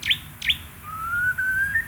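A murai songbird gives two short sharp chirps and then a long, steady, clear whistled note that slowly rises in pitch, close and distinct over a quiet background.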